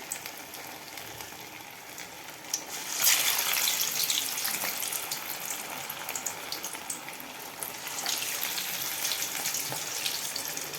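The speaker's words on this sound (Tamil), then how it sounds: "நம்ம எண்ணெயை கொஞ்சம் சிறு தீயில் வச்சே பொரிக்கலாம்." Raw banana vada fries in a small amount of oil over a low flame, giving a steady bright sizzle that surges louder a few seconds in and keeps crackling evenly throughout.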